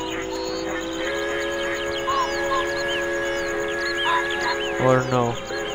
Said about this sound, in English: Whoa, this is actually a train.